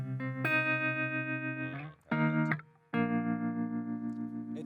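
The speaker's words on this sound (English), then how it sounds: "then we have trem, which is like the other side of the Strymon Flint" Electric guitar played through a Strymon Flint tremolo pedal: sustained chords pulse in a steady, wavering rhythm, with a brief pause and a short stab before another long pulsing chord, loud and alone.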